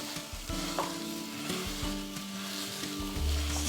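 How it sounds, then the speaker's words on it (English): Sausage sizzles loudly in a hot pan for Southern sausage gravy while a flat-edged wooden spoon breaks it up, with steady frying crackle and scraping strokes close by. "take a spoon, wooden spoon, bamboo spoon, whatever, with a flat edge, and just kind of start to break your sausage up"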